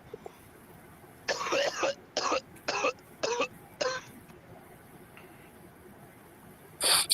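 A man coughs and clears his throat in a quick burst of five harsh hacks, close and fairly loud, then a final cough after a pause, with quiet background between.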